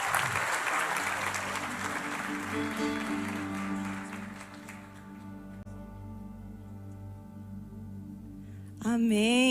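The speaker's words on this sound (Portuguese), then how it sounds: "Vamos dar mais um aplauso ao Senhor Jesus." Church congregation applauding during a service, a broad burst of clapping that fades over several seconds into quiet, with a sustained musical tone beneath and a voice rising at the end.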